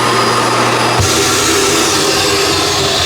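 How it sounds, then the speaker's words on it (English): A built-in sweep vacuum in a 2022 Forest River XLR Nitro 35DK5 toy-hauler RV runs with a steady, loud broadband whoosh, its pitch and tone shifting slightly about a second in as the motor settles into a constant drone. "And then down here we have your vacuum."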